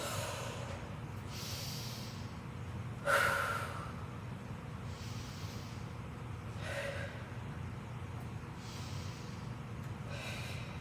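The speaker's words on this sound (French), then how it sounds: "On inspire, on expire." Slow breaths in and out during an exercise on a Swiss ball: several soft, airy inhales and exhales come at a steady pace over faint room noise, with one sharper snort-like breath.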